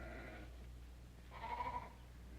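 A sheep bleats once on an open Western ranch land, a fairly faint, drawn-out call rising after a softer earlier tone, heard over a low steady background.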